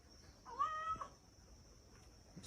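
A cat fighting a snake lets out one drawn-out, wavering meow, close and fairly loud, over a steady high-pitched background whine; a brief faint thump follows near the end.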